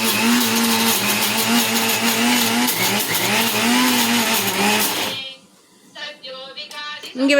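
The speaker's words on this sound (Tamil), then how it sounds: "நம்ம அரைக்கணும்." Mixer grinder grinding adai dosa batter, a steady loud whirring drone with a low cyclic churn that stops abruptly, followed by quiet clinks and handling noises.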